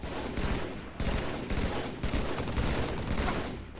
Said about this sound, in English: I was just having fun shooting my gun at them